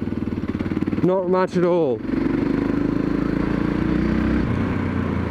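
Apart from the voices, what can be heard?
2013 Yamaha MT03 motorcycle riding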